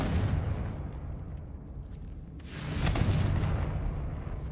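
Bombarda spell explosions in the Hogwarts Legacy video game: broadband booming blasts, with a louder burst about halfway through, continuing over sustained rumbling battle noise.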